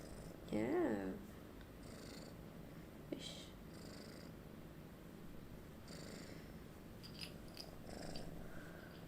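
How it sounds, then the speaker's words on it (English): A five-month-old kitten purring close by, a soft continuous rumble running throughout, with a brief meow near the start and a person talking. "She's like a 5-month-old kitten."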